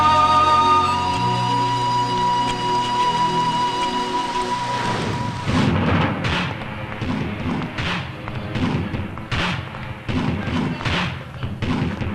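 Heavy rain falls steadily in a movie scene, a dense wash of downpour that later comes under deep thuds and rumbling hits with a sustained musical tone at the start.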